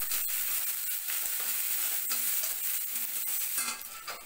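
Mustard seeds, urad dal, dried red chili, green chili and onion sizzling in hot oil for tempering, a steady bright crackle with stirring scrapes throughout, close and fairly loud, no talking.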